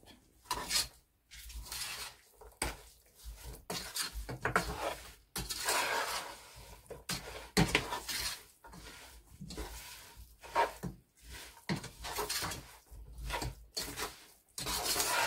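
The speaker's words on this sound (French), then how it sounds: "Donc maintenant, je vais mélanger tout ça." Harira soup ingredients, meat with parsley and coriander, are stirred in a cooking pot. The spoon scrapes and rubs against the pot in repeated close strokes with short pauses between them.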